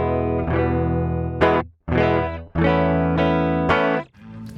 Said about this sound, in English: This is the sound with nothing engaged.